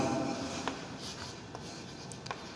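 Marker or chalk scratches faintly across a board during a physics class on motion in a straight line, a few short strokes with quiet room tone and a brief voice at the start.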